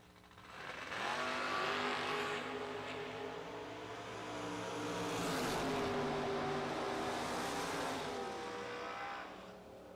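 Drag racing cars, one a Mopar, launch down the strip, their engines swelling into a loud harmonic roar that peaks twice before fading, heard somewhat distant.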